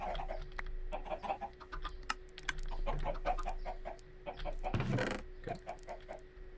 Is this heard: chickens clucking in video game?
yes